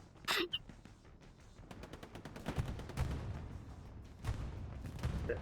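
MG machine-gun fire in a competitive online World War II shooter match on the Carentan map crackles in rapid bursts over steady game noise, with a sharp crack near the start and louder volleys later.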